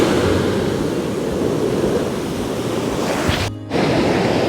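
Surf at Veli beach rolls in as a constant broad wash of breaking waves, fairly near and steady, with wind buffeting the microphone and a brief dip near the end.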